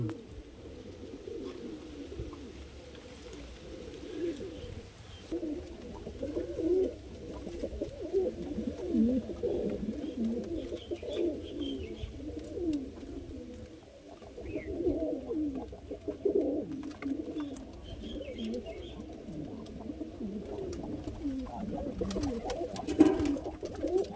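Madrasi pigeons coo in soft, repeated low throaty rolls, a continuous murmuring chorus from several birds close by, with no talking.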